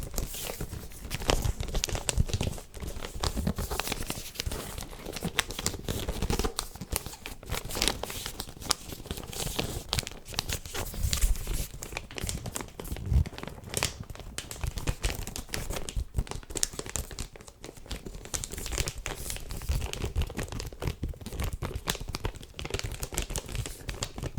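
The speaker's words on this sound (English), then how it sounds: "Does the wrapping paper sound nice?" Wrapping paper on a Christmas present crinkles and tears continuously at close range, a dense crackling rustle with steady, busy texture throughout and no talking.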